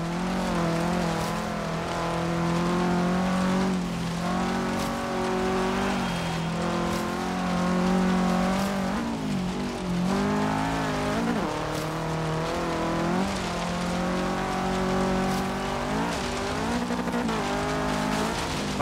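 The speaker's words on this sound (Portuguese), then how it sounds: "ronco do carro é lindo" A 2015 Subaru WRX STI in Forza Horizon 3 roars through a coastal forest trail race, its engine revving up and down through gear changes with occasional tire squeals, loud and continuous throughout.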